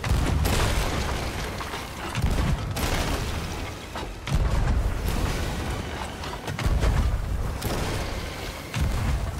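Ship cannons booming in Sea of Thieves: a series of heavy, loud blasts roughly every two seconds, each followed by rumbling decay, with no speech.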